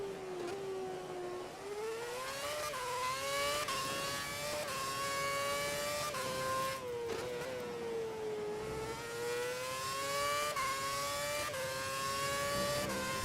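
An F1 race car engine in F1 2011 screams steadily at high revs, its pitch rising through gears and dipping at shifts, loud and close with no talk.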